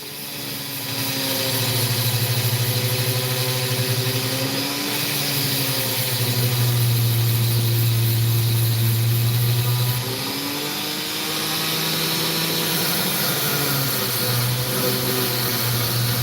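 A steady motorized grinding whine with a humming drone that shifts pitch as a piece of opal is pressed against the wheel, continuous and close.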